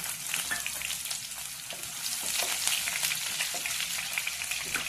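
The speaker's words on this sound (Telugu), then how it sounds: "ఇప్పుడు ఉల్లిపాయ ముక్కలు వేసుకుందాం" Onion pieces crackle and sizzle steadily in hot oil, a dense close frying sound with occasional stirring scrapes.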